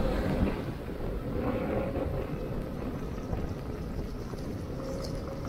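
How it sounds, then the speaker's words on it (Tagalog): Steady typhoon wind buffets the microphone in a continuous low roar in Biñan, Laguna, with a broad outdoor rush behind it and no voices. "kung mapapansin nyo, may hangin na dito"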